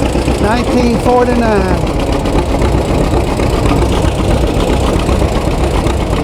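A 1949 John Deere M tractor, an early postwar small model built in Dubuque, Iowa, runs with a steady low engine rumble at a show, while someone talks over it throughout.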